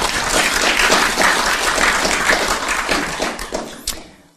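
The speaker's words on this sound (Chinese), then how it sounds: "谢谢方景学长， 谢谢， 掌声。" Audience applause at a Buddhist Dharma lecture, a dense, steady crowd clapping that holds strong for about three seconds and then thins into scattered claps before fading out.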